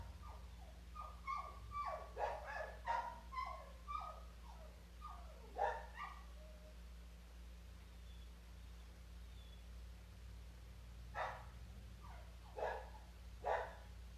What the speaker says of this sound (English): the dogs are barking downstairs